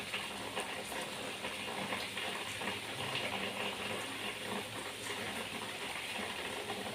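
Palm fritter batter frying in hot oil gives off a steady, even sizzle that hisses on without a break, close and moderately loud, with no talking.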